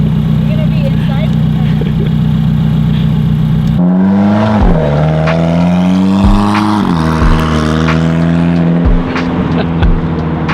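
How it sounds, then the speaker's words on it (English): A BMW E93 M3 being steered through a U-turn in a parking lot, with the power steering not working. Its engine drones loudly and close by, then shifts pitch and strains as the car moves. Voices can be heard faintly over it. "Try to do the U-turn in the parking lot."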